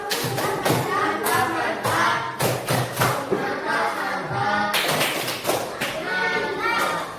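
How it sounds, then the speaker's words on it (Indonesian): Fifth-grade students in an Indonesian classroom clap their hands together in a lively burst, the tapping and claps mixed with children's voices and a teacher talking over them throughout. "tepuk tangan"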